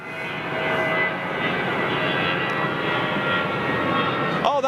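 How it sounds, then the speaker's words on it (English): An Airbus A220 jet airliner passing overhead, a broad steady engine roar that holds loud through the whole stretch before fading at the very end. "Oh, that was an A220"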